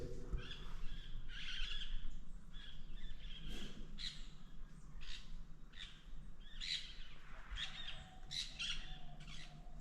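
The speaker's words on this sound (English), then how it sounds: "That's the sound of the birds." Several birds chirp and call in bursts over steady outdoor morning background noise in Jamaica, with bright repeated tweets throughout and no talking.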